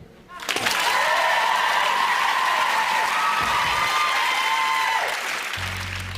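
A large television studio audience at a live talent show results night bursts into loud sustained clapping with cheers and whoops, holding for several seconds before easing, while a presenter talks over it.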